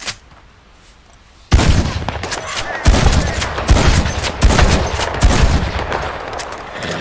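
Rapid gunfire from a black gun in the video game Red Dead Redemption 2 breaks out after a quiet start, then runs as loud, fast bursts with short gaps between them.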